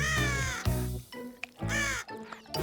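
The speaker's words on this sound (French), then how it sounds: "Ça doit être chouette d'être un corbeau, au moins vous pouvez voler." A crow caws several times, harsh loud calls in an irregular rhythm with short pauses between them, close and clear.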